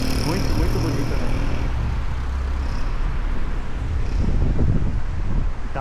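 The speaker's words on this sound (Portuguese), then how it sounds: "Tá ventando muito mesmo." Strong gusty wind buffets the microphone on a town walk in Gramado, Rio Grande do Sul, Brazil, a steady low roar with swelling gusts and faint traffic behind it.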